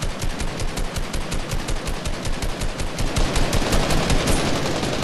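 Continuous rapid gunfire in the video game Fortnite, a dense, loud, steady stream of shots that carries on without pause and swells slightly toward the end.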